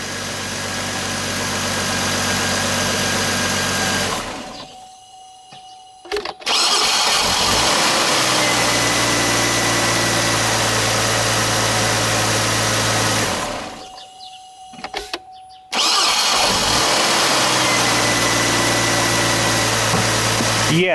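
A 2006 Chevrolet Trailblazer engine idles steadily, cuts out twice into near silence, and each time cranks briefly and fires right back up to a loud, close idle.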